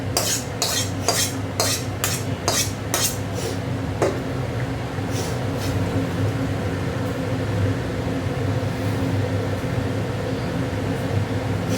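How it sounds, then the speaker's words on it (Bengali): Potatoes are stirred in a pan in a home kitchen, starting with a quick run of sharp utensil scrapes and clinks against the pan that then give way to a soft, steady background hum. "এবার আলুগুলো দিয়ে দিচ্ছি।"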